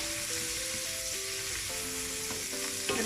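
Chicken frying in a pan for Tuscan chicken gives a steady, close sizzle under faint tonal background music, with no one talking.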